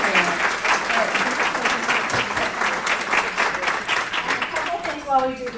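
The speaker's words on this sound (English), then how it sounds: "Let's give them a big round of applause." Sustained audience applause at an advocacy day event, dense clapping from a sizable crowd with voices talking and calling out over it, continuing steadily throughout.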